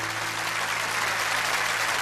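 An audience inside a church breaks into dense, sustained applause, with steady clapping from many hands at an even level the whole time.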